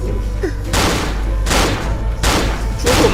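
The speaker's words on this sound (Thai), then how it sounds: "ยิงไม่โดนเลยอ่ะผมนี่โชคอาเลย" Gunfire in the video game Cry of Fear comes as three heavy, booming shots at roughly even intervals, each with a rumbling tail, loud and close over a low background hum.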